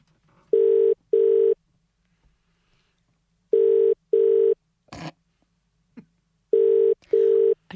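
Telephone ringing on the line in three repeated double-ring pairs, steady electronic tones with silent gaps between, plus a couple of brief clicks and rustles.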